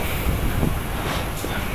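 A 25 watt aerator bubbling water in a red bucket, a dense continuous rushing gurgle of air through water, steady and fairly loud with no pauses.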